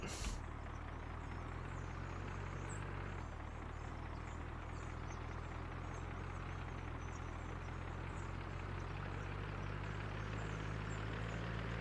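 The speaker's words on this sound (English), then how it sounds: "And the dump truck will be on its way now." Dump truck in the Workers and Resources game carrying 25 tons of gravel and pulling away on temporary mud roads, a steady low engine rumble holding throughout at moderate level, no talk.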